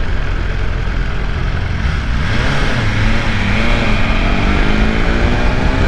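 A 2022 BMW S1000RR M Edition sport motorcycle revs hard under acceleration, its engine note climbing steadily and sounding loud and close over a constant roar of wind.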